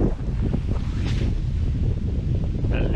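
Strong, steady wind roars across a lake, buffeting the microphone with low rumbling gusts and faint water lapping, heard from a canoe in open conditions.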